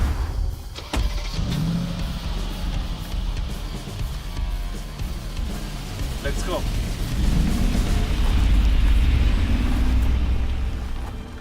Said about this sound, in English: the only proper way to measure a G-Wagon's improvement is taking it out to its favorite playground, Mount Schöckl in Austria